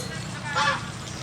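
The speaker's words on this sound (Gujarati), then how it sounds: "goose" A goose gives a single short nasal honk near the middle, fairly close, with a steady low background.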